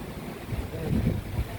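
Strong gusty typhoon wind, from Typhoon Uwan in Santa Rosa, Laguna, Philippines, roars and buffets the microphone, a loud continuous rumble without any voices.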